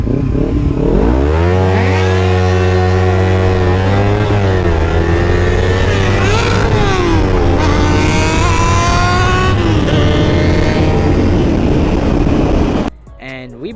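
A 2014 300cc sport motorcycle and a 600cc sport bike rev hard and accelerate up through the gears. The loud, close engine whine climbs repeatedly in pitch, then cuts off abruptly near the end.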